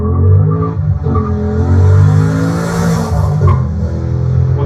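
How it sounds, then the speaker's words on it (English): A car with a pushrod V8 revs hard, its loud, rough engine note climbing and holding with rich low harmonics, close and steady for several seconds. "It's a pushrod V8"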